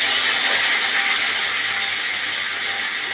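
Steady, loud sizzling hiss as broth is poured into a pan of frying koi fish, an even broadband crackle holding without a break throughout.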